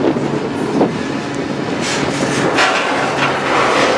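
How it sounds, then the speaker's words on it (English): A train pulls into McCook, Nebraska, heard from on board as a steady, close rumble of rolling wheels and railcars with faint clatter and brief higher squeals, and no talking. "the train and myself, along with it, are pulling into McCook, Nebraska"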